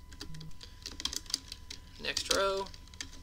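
Computer keyboard typing: quick irregular clicks and clacks in bursts, with one louder flurry of keystrokes, heard under someone talking at a desk.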